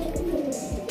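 Pigeons coo softly inside their loft, a brief low, throaty burble heard close by with no one talking.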